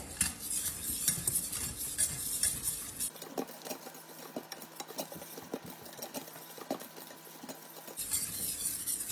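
Flour roux for mac and cheese cooking in a pan while being stirred, with repeated scraping and clinking of a utensil against the pan over a soft background sizzle.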